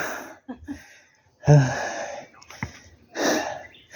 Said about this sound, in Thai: หอบแล้ว